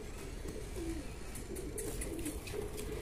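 A pigeon, resting on a net, coos softly in low, rounded bursts against steady background hiss, with faint chirps higher up.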